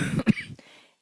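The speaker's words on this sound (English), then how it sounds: "I have this cough that I'm really trying to get on top of." A single short cough comes up close and fairly quiet, followed by a brief throaty catch that fades into silence.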